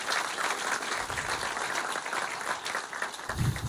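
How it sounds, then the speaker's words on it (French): Moderate applause from a stand-up comedy audience for a comedian, a fairly quiet, steady patter of clapping with a couple of low thumps near the end. "On applaudit Walter, s'il vous plaît."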